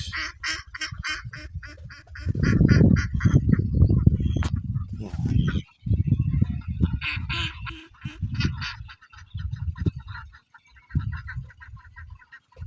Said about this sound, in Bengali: দেখেন কত সুন্দর হাঁস।